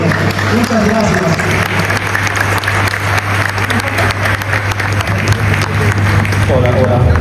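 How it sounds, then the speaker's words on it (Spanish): Audience applause for panelists at a blockchain conference in Bolivia, loud dense clapping mixed with crowd chatter and a voice talking over it, with a steady low hum underneath. "un fuerte aplauso a estos hermosos panelistas que nos han dado todo su conocimiento"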